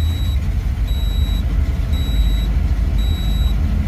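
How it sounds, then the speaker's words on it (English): An aftermarket 4-in-1 gauge warns of low oil pressure with evenly spaced electronic beeps about once a second over a loud, steady engine rumble. "this thing's probably beeping because it's saying I got low oil pressure"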